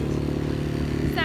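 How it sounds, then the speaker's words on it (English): A small 6-horsepower outboard engine on a boat tender drones steadily and loudly with a harmonic hum, pushing a sailboat at sea, and a voice talks briefly over it. "Saddest thing is that our little 6-horsepower engine pushes it the same as our big diesel engine."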